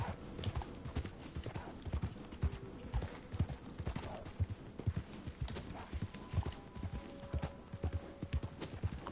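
Horse hooves clip-clop steadily on an uphill trail in Red Dead Redemption II, a rhythmic, close series of thuds and clacks with a faint snort along the way.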